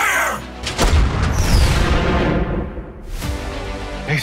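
A tank cannon fires in a war film trailer, with deep booming blasts and heavy rumble rolling through the scene, loud and close.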